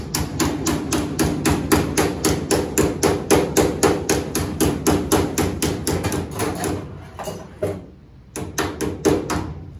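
A hammer taps steadily and loudly on the metal drip rail of a 1967 Mustang coupe, working it into place in a rapid even rhythm of roughly two to three strikes per second, pausing briefly near the end before a few more taps.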